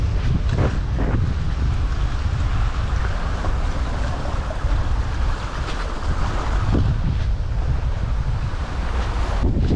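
Strong wind roars at sea aboard a sailing boat on an ocean crossing toward the Maldives, a loud, constant rushing that buffets the microphone, with waves washing underneath.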